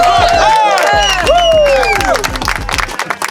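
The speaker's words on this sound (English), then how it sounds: "let's give it a round of applause" A crowd claps and cheers loudly, with rising whoops and shouts over a steady thumping beat.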